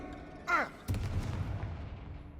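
A Confringo blast spell in the video game Hogwarts Legacy: a brief whooshing cast is followed by a loud, rumbling explosive boom that trails off into a long, fading roar.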